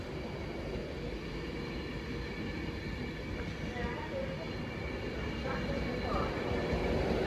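Class 390 Pendolino units 390127 and 390126 pass through Stafford on a West Coast service to London Euston, a steady, fairly loud rolling rumble that builds slightly toward the end.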